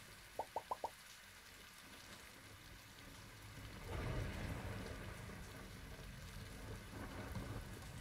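Rain and thunder in the video game Cornucopia: a short burst of four quick plinks, then a soft, steady patter of rain with a low rumble of thunder swelling midway, faint and without speech.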